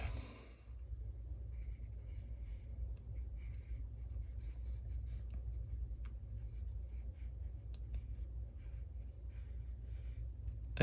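A pencil sketches on a sketchbook page in faint, scratchy strokes above a low, steady background hum.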